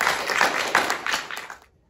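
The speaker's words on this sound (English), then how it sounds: "Let's give all of those people a big clap" A school audience claps for award recipients at a presentation day, a dense burst of many hands that holds steady, then thins and fades out near the end.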